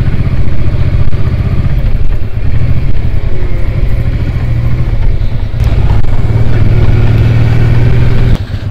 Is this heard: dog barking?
no